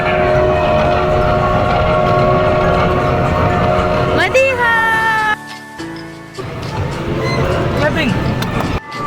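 A train rolls into a station stop, with steady loud rumbling, a few rising horn-like tones midway and a brief drop in noise as it slows, all continuous throughout.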